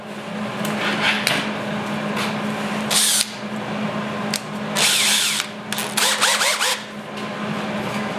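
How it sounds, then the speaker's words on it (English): A power drill whirs in several bursts, revving up and cutting off with short pauses, close and loud over a steady background hum. "Put this in my drill."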